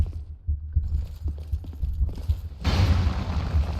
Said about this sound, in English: I hear a heartbeat down here.